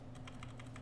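Computer keyboard keys pressed in a quick series of light, faint clicks with steady rhythm, played while controlling a multiplayer Asteroids game, with a low background hum and no speech.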